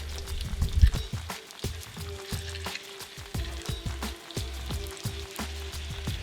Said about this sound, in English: Add 1 tablespoon of butter and the juice of half a lemon to pan.